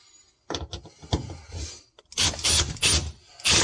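A screw being driven into a compartment panel of a Jeep during an interior gutting job, heard as several close bursts of whirring, grinding power-driver noise separated by short pauses.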